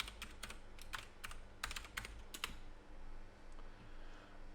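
A username and password are typed on a computer keyboard, with bursts of quick close key clicks in an uneven rhythm followed by a short quiet pause, faint and alone.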